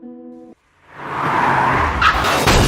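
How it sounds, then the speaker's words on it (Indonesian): A car in a film scene speeds up and skids: after a brief electronic tone and a short silence, a loud rushing roar of engine and tire noise builds and holds, with sharper scraping bursts late on. "Di awal film nampak sebuah mobil melaju dengan kecepatan kencang,"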